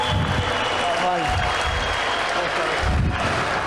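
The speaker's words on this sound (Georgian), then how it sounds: "ტაში და აპლოდისმენტები" An audience at a boxing celebration gives steady applause, its clapping continuing under a voice that speaks over it.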